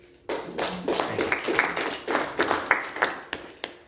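Scattered hand claps from a small audience at a poetry reading, a loose run of individual sharp claps at moderate volume, uneven in rhythm, after a poem ends.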